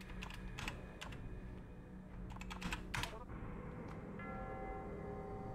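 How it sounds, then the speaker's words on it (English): Soft, quick clicks of typing on a computer keyboard in a short irregular burst, faint under a steady tonal game background with a bell-like chime. "Let's just make sure I'm typing it right."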